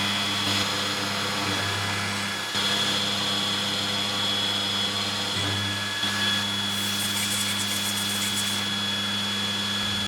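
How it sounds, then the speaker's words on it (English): An end mill slotting at almost full depth through lathe chuck jaws on a milling machine, a continuous loud grinding cut with a high steady whine and brief dips where the pass changes, with no talking. "Just full depth cut, almost full depth cut, slotting away all the material, and then coming back and doing a semi-finishing pass."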